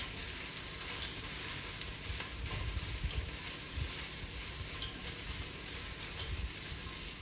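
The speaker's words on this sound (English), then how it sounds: "we're going to give it a stir so the cabbage gets really nicely coated with the olive oil and the tomato puree" Sliced cabbage being stirred in a pan with olive oil, diced onion and tomato puree, giving a soft, steady sizzle with faint scraping underneath, quiet and close.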